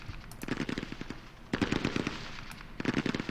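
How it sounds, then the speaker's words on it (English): A medium machine gun sound effect from an Advanced Squad Leader board game mod rattles off three rapid bursts of gunfire, loud and close, with short pauses between them. "we can fire with the leader in the medium machine gun again"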